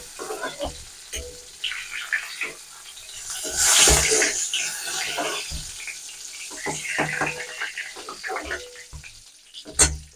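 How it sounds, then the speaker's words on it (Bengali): Pointed gourd (potol) frying in oil in a wok, with a continuous hissing sizzle, a louder surge partway through and clattering spatula knocks against the pan. "পটলগুলো লাল করে ভাজা হয়ে গেছে"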